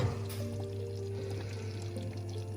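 Water being poured into a cooking pot on the stove, a soft steady splashing over a low kitchen hum, close by and with no speech.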